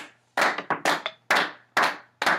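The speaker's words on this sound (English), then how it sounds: "strike up a clapping" Several people at a tabletop role-playing game session clap in short, irregular bursts, close by and fairly loud, with brief gaps between the claps.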